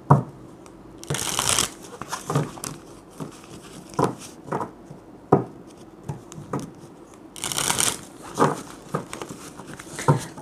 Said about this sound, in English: Last shuffle, and we should begin.